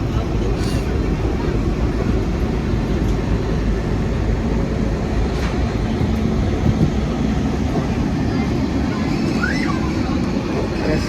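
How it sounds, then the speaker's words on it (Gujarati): The 19218 Saurashtra Janata Express at Rajkot Junction produces a steady, loud, low rumble with an even wash of noise throughout the clip. "આપણી ટ્રેન પહોંચી ગઈ છે રાજકોટના જંકશનમાં"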